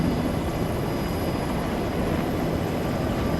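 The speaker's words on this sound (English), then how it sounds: "we're in helicopters" Military helicopter flying in the video game Arma 3, a steady, dense rotor and engine drone held at an even, close level throughout with no break.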